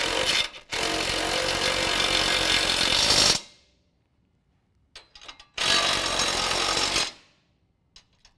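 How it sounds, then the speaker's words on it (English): An impact wrench snugs up skid plate bolts during a lift kit install on a 2015-17 Ford F-150 4WD, firing in two loud, close, sustained bursts separated by a quiet gap with faint clanks. "I'm going to use a impact just to snug them up"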